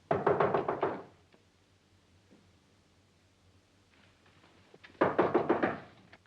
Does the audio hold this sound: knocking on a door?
yes